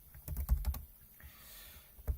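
Computer keyboard keys pressed for a shortcut while writing in Google Docs: a quick cluster of sharp, close clicks, then a pause before one more keystroke, with no talk.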